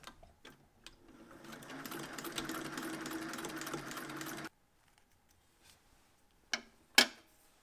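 A sewing machine stitches an elastic band into a round for a leather beret, a fast close whirring run of a few seconds, followed by quiet and a couple of sharp handling knocks.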